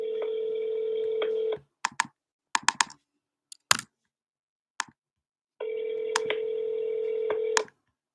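Phone dialing to call a sales lead: a steady dial tone, a quick run of separate key presses with tones, then the tone returns, all clear and close with no talk.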